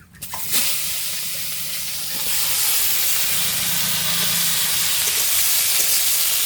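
Chopped vegetable stalks and potatoes hit hot oil with cumin in a pan, a sudden burst followed by a loud, steady hissing sizzle that swells and holds close by.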